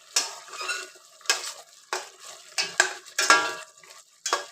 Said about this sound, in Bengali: ঘি আর গরম মশলা অ্যাড করে একবার ভালো করে সবটা মিশিয়ে নেব।